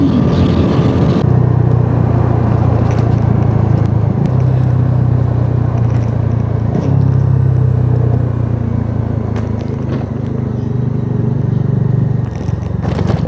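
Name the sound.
Triumph three-cylinder motorcycle engine during test ride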